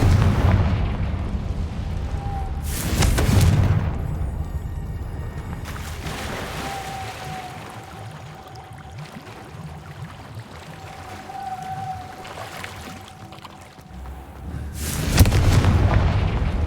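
Fiery blasting-spell explosions in a video game: a loud burst near the start, another around the middle, and a final one near the end, each with a rumbling tail over a low ambient hum.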